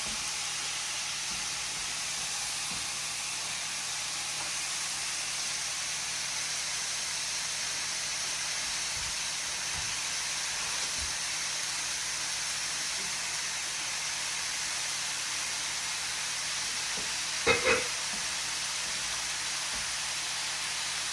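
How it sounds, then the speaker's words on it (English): Onions fry in a pan for a steak and mushroom stir fry, giving a continuous, even hiss of sizzling oil throughout, close and steady, with one brief clink near the end. "Now is when I add the onions."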